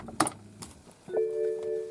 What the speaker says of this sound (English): So we have to put the keys into the slot.